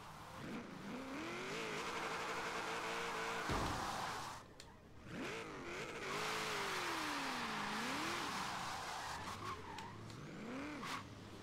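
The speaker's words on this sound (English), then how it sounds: "So let's go out here and drift with this thing some." A car drifting in the video game Forza Horizon 3, its engine revving up and down through slides with steady tire squeal, briefly cutting out before roaring back, fairly quiet overall with no talking.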